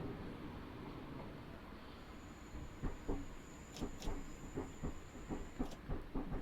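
Class 465 electric train in Train Simulator Classic running over points at low speed, a steady rumbling hiss with a rhythmic series of clunks and rattles from the wheels crossing the track joints, plus a faint high whine.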